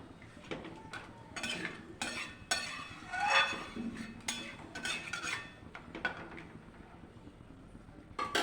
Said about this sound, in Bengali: এবার আমি ঢাকা চাপা দিয়ে দেবো, সুন্দর করে ফুটতে দিতে হবে।